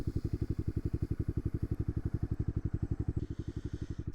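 A motorcycle engine idles in neutral with its kickstand up, producing a close, steady, fast-pulsing low putter with a very even beat throughout, and no one speaks.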